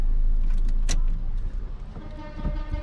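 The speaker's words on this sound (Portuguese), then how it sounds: "Puxa o freio de mão. E desliga a chave." A car's ignition key turned off during a driving lesson, with a short metallic key jangle and click as the engine's low rumble cuts out, leaving a quieter interior.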